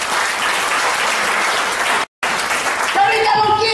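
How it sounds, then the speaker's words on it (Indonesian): A church congregation claps together during a Sunday worship service, a dense, loud wash of applause that breaks off briefly in a short dropout midway, then resumes as a faint voice or tone rises over the clapping. "Tepuk tangan untuk Tuhan."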